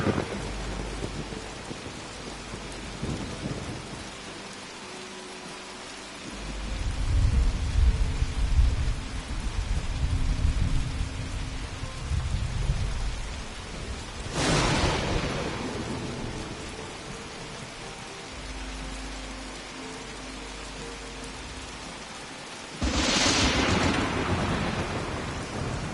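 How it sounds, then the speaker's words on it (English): Rain pours steadily from a weather machine inside a camp in Fallout 76 on PlayStation 4 Pro, with rolling rumbles and two sharp, loud thunder cracks cutting through the constant patter. "It will only rain inside the camp's"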